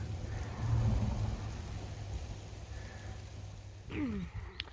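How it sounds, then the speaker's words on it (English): A low thunder rumble swells and fades beneath steady rain at a highway underpass on a hiking trail, ending with a brief sharper crackle. No one talks. "oh, it's raining again"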